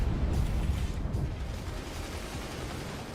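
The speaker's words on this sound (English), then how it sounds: "That sounds like an internal explosion on his side." A fort in the strategy game Forts has an internal explosion, heard as a deep, rumbling, sustained roar that fills the clip at steady loudness with no voices over it.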